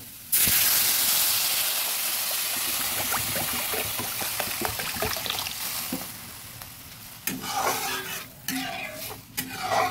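Water poured onto lightly fried lentils in a hot pan bursts into a loud hissing sizzle that slowly fades, followed by stirring scrapes and bubbling.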